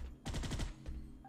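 Gunfire in the video game Space Beast Terror Fright: a short rapid burst of about six automatic shots, followed by two fainter single reports, fairly quiet overall.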